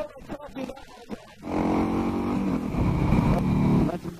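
A Harley Davidson 883 Sportster motorcycle on twisty roads, its engine rumbling loud and steady after a voice talks briefly at the start.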